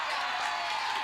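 A studio audience at a live morning TV show cheering and clapping, a steady broad wash of crowd noise at moderate distance, short and fairly faint.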